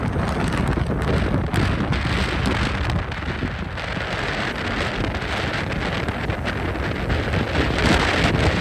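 Strong mountain wind on the road toward Hemkund Sahib roars in a loud, steady rush that buffets the microphone throughout, with no voices.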